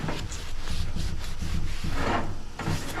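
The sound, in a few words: scrubbing grime off bottom of Ash Flash lantern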